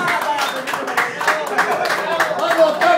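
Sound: applause at a birthday party

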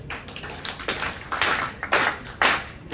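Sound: audience clapping hands

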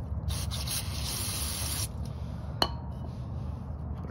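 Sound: spraying cleaner on carburetor part

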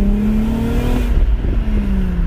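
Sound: Acura TL car revving with tires spinning

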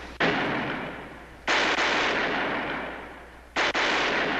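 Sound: gunfire in a battle

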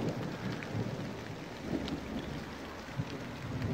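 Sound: heavy rain with thunder outdoors

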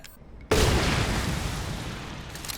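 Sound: grenade explosion in the video game Resident Evil Village

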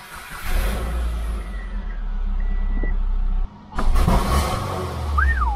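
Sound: intake backfire of a Subaru Impreza 2.5L engine

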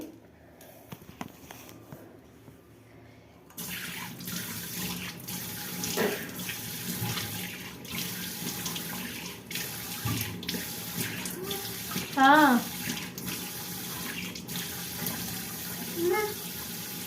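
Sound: water running from tap while washing face

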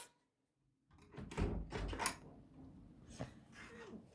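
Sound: door being opened

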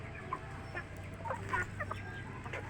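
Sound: chickens clucking

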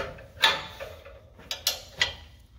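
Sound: 15/16 open end wrench loosening a jam nut on a hitch

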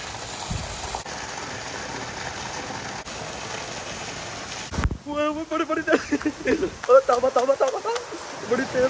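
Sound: heavy rain falling

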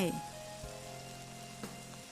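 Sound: oyster mushrooms frying in butter in a pan

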